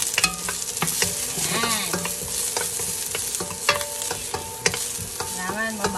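Garlic fries in a pan while being stirred, giving a loud close sizzle punctuated by repeated scraping and clanking strokes of the utensil, with a brief word spoken in the background.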